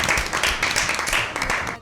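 A studio audience at an Easter Bible quiz breaks into brief, dense applause, many hands clapping together at close range.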